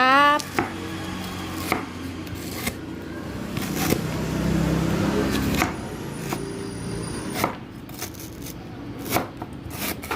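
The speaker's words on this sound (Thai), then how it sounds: "ซอยตะไคร้เลย" A knife chops lemongrass stalks on a board for Thai salted crab relish. About ten firm, unhurried strokes stand out over a low steady background hum.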